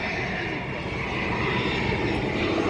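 An EasyJet airliner approaching to land over old-town Faro in Portugal's Algarve, its engines a steady, broad roar that holds loud and constant throughout, with no talk over it.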